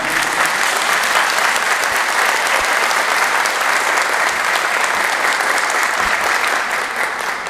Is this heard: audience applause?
yes